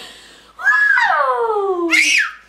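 A young boy lets out a loud, close, high-pitched scream that slides downward in pitch, then breaks into a short, sharp shriek at the end.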